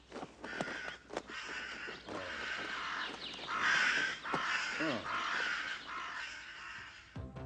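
Crows cawing repeatedly in a forest, loud and near, a steady series of harsh calls with short gaps and a few overlapping voices.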